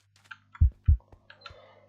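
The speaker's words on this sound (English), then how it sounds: "if you get very low on health, you start getting like a, like a heartbeat effect" Low-health heartbeat effect in a modded video game: two deep, thumping beats in quick succession, heard alone with a few faint clicks around them.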